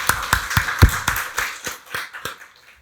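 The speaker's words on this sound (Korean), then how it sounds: "박수로 하나님께 영광 돌리겠습니다." Church congregation clapping together during a Sunday worship service, about ten sharp, evenly spaced unison claps in a steady rhythm, slowing and growing softer toward the end.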